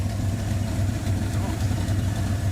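A 1984 Mustang GT350 20th Anniversary idles close up with an exhaust leak, giving a loud, steady low engine rumble with a faint pulsing ticking over the top.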